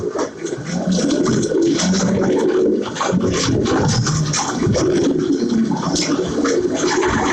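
Domestic pigeons and their squabs cooing together in a loft, a dense, continuous chorus of low throaty coos layered over steady rustling and shuffling.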